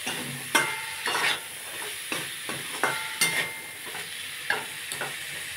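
Ash gourd cooking with prawns and spices in a pan, a soft steady sizzle broken by regular scraping stirs roughly every half second to second.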